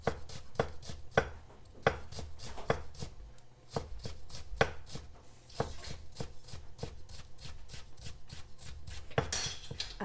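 A large knife julienne-slices vegetables into very thin strips on a board, producing a steady run of crisp, close chopping taps at a quick even rhythm with a brief pause midway.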